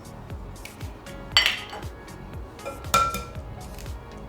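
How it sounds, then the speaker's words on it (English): Four eggs cracked into a bowl for a pecan tart, several sharp taps of shell against the bowl rim, two louder cracks standing out, with soft clinking and handling noises between them, no voices. "So we're gonna crack 4 eggs"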